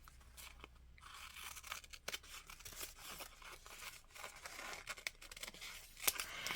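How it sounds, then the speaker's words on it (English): Scissors slice lengthwise down the middle of a strip of washi tape, giving a faint, steady run of small snips and crinkly tearing noises close by, with no voices. "So I'm going to cut this lengthwise right down the middle, like that."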